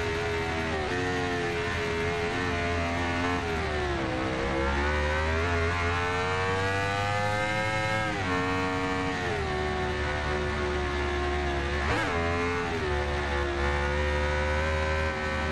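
A 2014 Aprilia RSV4 1000 APRC ABS sportbike engine in the racing game Ride 2 revs steadily, its pitch rising and falling through gear changes with short dips, loud and continuous with no talking.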